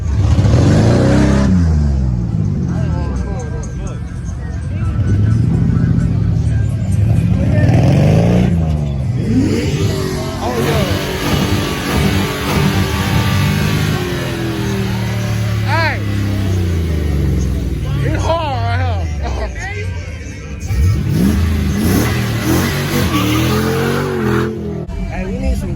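At a street car meet, a loud car engine revs and roars up close with surging accelerations. People chat and call out nearby over the engine noise.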